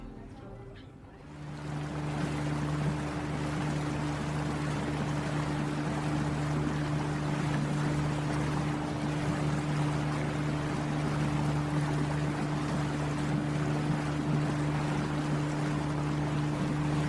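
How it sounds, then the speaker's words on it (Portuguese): A motor launch runs steadily on a river in Senegal, its engine a constant close drone that holds for the whole stretch after a brief quieter start, with water noise beneath and no talk. "Lançamos âncora no meio do rio e seguimos para a aldeia em uma lancha."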